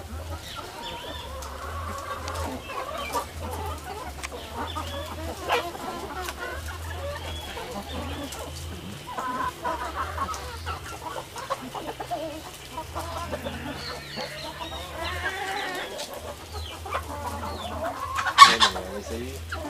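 A flock of free-range chickens keeps up continuous soft clucking and murmuring, with a louder call near the end, fairly distant and low in level.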